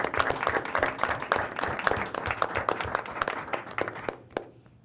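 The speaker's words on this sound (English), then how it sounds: "A round of applause for you" A small room of people clapping at a school board of education meeting, a close, brisk patter of individual claps that thins out and stops abruptly near the end.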